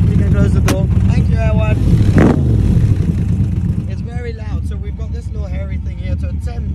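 A loud AC Cobra engine idles and rumbles steadily close by in Monaco, with people talking over it.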